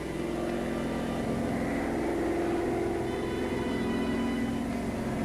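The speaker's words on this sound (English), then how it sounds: "German reconnaissance plane." A German reconnaissance plane in World War II over Holland drones steadily overhead, a continuous propeller-engine hum with sustained tonal bands, fairly loud and unbroken, with no voices.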